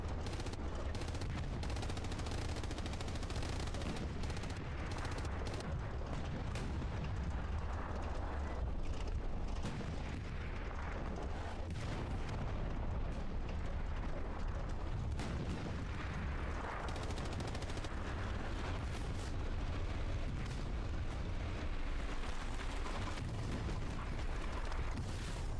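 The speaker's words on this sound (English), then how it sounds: "SaP getting desperate with the arty strikes." Artillery strikes pound a Kharkov map during a competitive video game scrim, giving a dense, continuous rumble of explosions and gunfire with heavy low booms that never let up.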